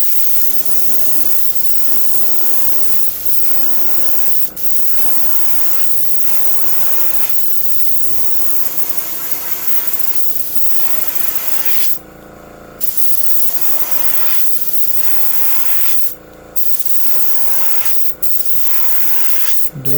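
Burnt orange paint being airbrushed onto a Storm V45 crawfish fishing lure: a continuous close spray hiss with short pauses and brief louder bursts, lasting the whole stretch with no talk.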